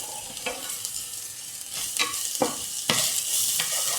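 Arborio rice toasting dry in a pan for pumpkin and chorizo risotto gives off a steady crackling sizzle, with brighter scraping bursts as it is stirred, close and unaccompanied by talk.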